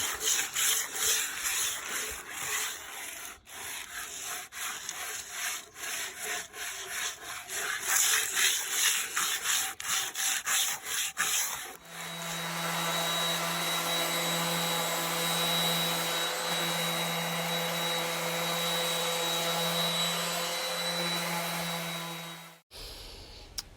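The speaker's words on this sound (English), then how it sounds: "I'm just going to sand away a little bit so that when we stain, it will look beautiful." Wooden boards for a cement and wood bench being sanded: rhythmic back-and-forth hand rubbing at first, then a steady whining power sander droning close and loud until it cuts off abruptly.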